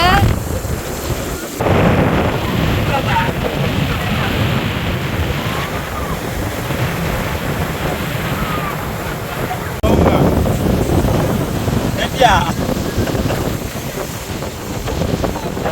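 Sea waves rolling in fast and crashing on a beach, a loud continuous surf wash with heavy wind buffeting the microphone and surges every few seconds.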